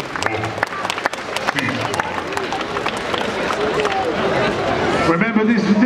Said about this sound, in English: Big round of applause for Wedgie.